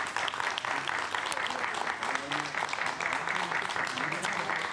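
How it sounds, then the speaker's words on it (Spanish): Continuous audience applause on a television set welcoming a magician, a steady wash of clapping at moderate distance with faint crowd voices underneath, lasting the whole stretch. "un fuerte aplauso para Alberto Bernat"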